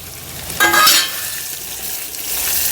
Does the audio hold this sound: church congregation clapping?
no